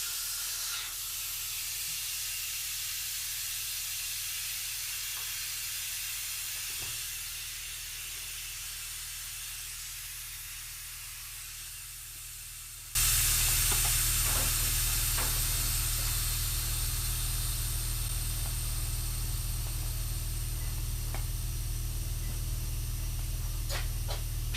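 Air hisses out of an inflated bicycle inner tube after its valve is removed, a steady close hiss that suddenly grows much louder and brighter partway through, then continues strongly.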